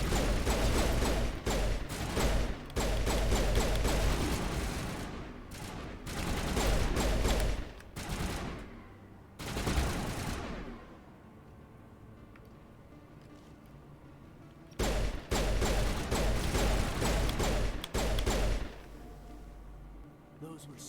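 Bursts of rapid gunfire crackle in Mass Effect, dense volleys broken by pauses, a quiet stretch in the middle, then another long burst, with a voice talking at times.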